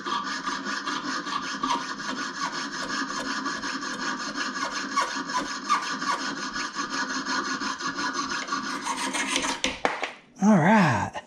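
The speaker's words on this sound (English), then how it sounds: "I'm just giving it some nice smooth strokes, and I've definitely improved sawing over the last 2 weeks" A hand saw cuts through a copper ring in smooth, regular back-and-forth strokes, close and steady for about ten seconds before stopping, followed by a short squeaky sound.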